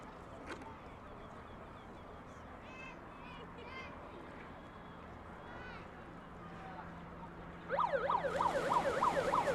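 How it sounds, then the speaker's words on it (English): A race start siren wails in a rising and falling pattern near the end of a triathlon swim start, entering abruptly over a busy background of voices and noise. "The siren signals the start"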